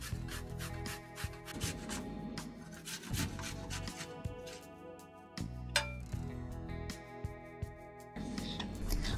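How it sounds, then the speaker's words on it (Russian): Zucchini rubbed against a fine metal grater, a steady run of close, dry rasping strokes with small clinks, repeating rhythmically throughout. "Кабачок очищаю от плодоножки и хвостика и натираю на мелкой терке."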